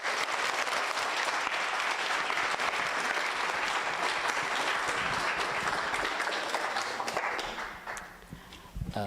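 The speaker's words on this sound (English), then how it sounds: "A round of applause for our participants." Sustained audience applause for session participants at an ICC Kenya event: dense, even clapping from a crowd that holds steady for about eight seconds, then thins out and briefly picks up again at the end.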